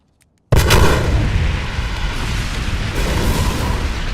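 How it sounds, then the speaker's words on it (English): After a brief silence, a massive explosion erupts abruptly from the hospital scene in The Dark Knight, a loud booming blast followed by a sustained roaring rumble of debris and fire that does not fade. "The hospital scene alone, where he's casually walking away from an explosion in a nurse outfit"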